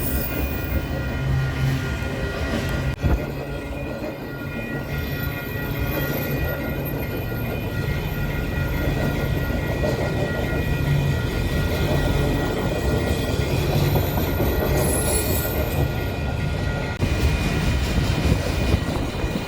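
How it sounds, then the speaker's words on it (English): An eastbound auto rack train led by Union Pacific 6309, a former Southern Pacific AC44CW locomotive, in Rochelle, Illinois, rumbling steadily past at moderate distance with a continuous low roar and faint high tones. "was seen leading an eastbound auto rack train."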